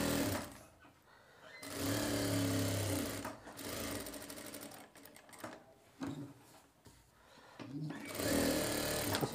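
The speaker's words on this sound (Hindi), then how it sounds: "अब इस पर लगाएंगे सिलाई। इस टाइप से अच्छे से सिलाई लगा लेनी है आपको।" A sewing machine stitches a shirt collar, its rapid mechanical whirring running in close, loud stretches broken by short pauses as the fabric is repositioned.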